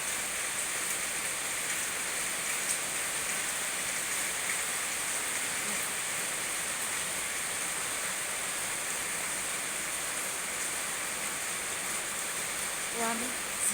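Heavy evening rain falling, a dense, even hiss that runs unbroken and fairly loud from start to end, with no voices over it.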